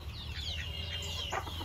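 Chickens clucking at a village poultry shed, several birds softly calling close by over steady low rumbling background noise, with no talking.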